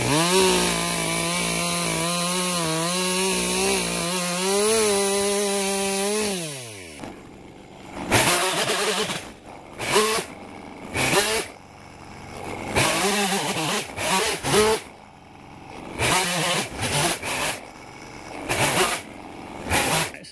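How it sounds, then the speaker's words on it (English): A chainsaw idles and revs, then bites into a wood log, cutting off its corners in repeated bursts, roaring loud and close with short pauses between cuts. "I'm going to take the chainsaw and cut some of these worst of these corners off."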